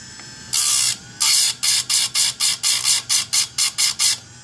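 A grinder or sharpening tool works a modified ripping chainsaw chain, producing loud, bright, high-pitched bursts: two longer passes followed by a quick, regular series of about a dozen short touches, close and without talk.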